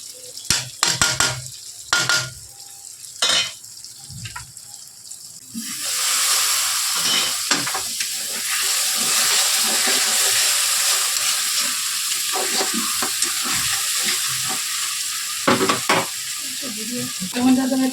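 Spices, turmeric and Kashmiri chilli powder sautéed in a pan for a vegetarian potato curry: a steady loud sizzle fills most of the stretch, with scraping stirs and clinks of a utensil against the pot, no talking.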